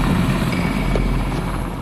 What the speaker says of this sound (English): As the helicopter touches down,